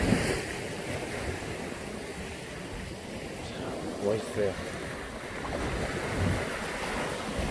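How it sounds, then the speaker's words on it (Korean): Ocean surf roars steadily against the rocky shore at Yongbawi in Goheung, South Jeolla, with gusty wind buffeting the microphone, while a person briefly speaks over the crashing waves. "파도 소리도 좋고 아 끝내준다"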